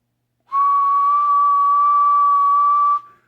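A single steady whistle into a CB radio microphone, a 1995 side mic on a tuned Cobra 29 LTD Classic, holds one pitch for about two and a half seconds, loud and close, then cuts off.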